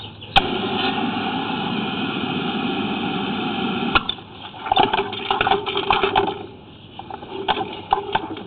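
Water from a toilet flush rushes loudly and steadily for several seconds, then breaks into gurgling, uneven splashes and trickles as the flow tapers off.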